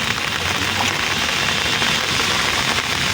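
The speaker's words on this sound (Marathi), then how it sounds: "कारण जाम पाऊस पडतोय" Heavy rain pours steadily on a riverside fishing spot, a dense, even hiss of drops on surfaces with a faint low rumble beneath, continuous throughout.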